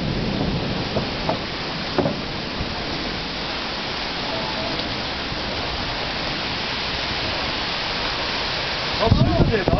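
Heavy rain and gusting wind during a summer storm roar steadily as a dense, continuous wash, with a few sharp knocks early on and a louder surge at the very end.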